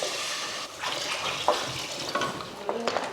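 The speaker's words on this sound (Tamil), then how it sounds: "மிக்ஸி ஜாரை கழுவி கொஞ்சம் தண்ணி சேர்த்துருவோம்." Water is poured into a mixer grinder jar to rinse it while cooking mutton kulambu, a steady splashing pour in a kitchen with a few clinks near the end.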